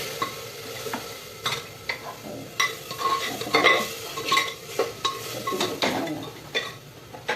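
Onions sizzle gently in a pan while a spoon scrapes and stirs in uneven strokes, with soft clinks of metal against the pan.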